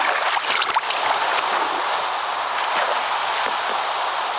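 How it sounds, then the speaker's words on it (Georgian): A rainy sea gives a dense, continuous hiss of rain and rushing water, steady and fairly loud with a few faint knocks, no voices. "აქ არის ზღვა წვიმიანი ზღვა"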